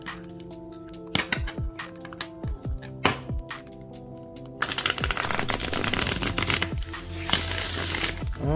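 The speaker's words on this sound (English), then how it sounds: "let me shuffle the cards so you guys can see how they shuffle." Tarot cards shuffled by hand, a few riffling bursts and taps at first, then a longer dense flurry of shuffling, close and crisp over a soft music bed.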